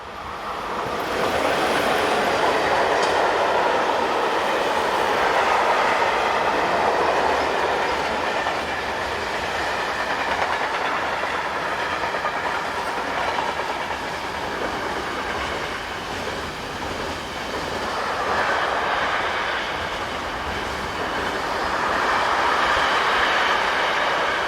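A Swiss Re 6/6 electric locomotive, number 11616 in red livery, rolls through Moulins hauling a train, a steady loud rumble of wheels and rail noise with faint clickety-clack that swells and eases as it passes close by.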